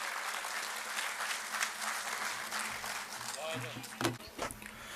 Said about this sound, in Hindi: मैं चाहता हूँ ज़ोरदार तालियों से उनका इस्तकबाल